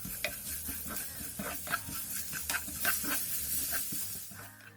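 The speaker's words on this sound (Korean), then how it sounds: "중약불에서 재료들의 숨이 죽을 때까지 볶아주세요" Julienned vegetables for janchi guksu garnish are stirred in a pan over medium-low heat with a pinch of salt, a soft steady sizzle broken by repeated scraping clicks of the utensil, close and moderately quiet.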